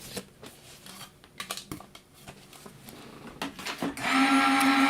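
Paper feeding through a manual die cutting machine during a stamped panda Valentine card project, heard as soft scattered clicks and rustles that build into a loud, steady grinding roll near the end.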